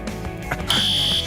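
A fire alarm suddenly blares a loud, steady high-pitched tone that holds to the end after a moment of background noise.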